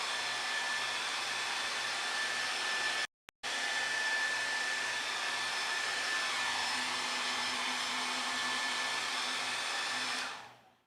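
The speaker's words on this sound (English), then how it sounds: "Just need to put a little bit of heat on this just to dry it up." Heat tool blowing steadily while drying watercolor paint on a bison painting, a continuous close whirring hum with a brief cut-out early on before it winds down at the end.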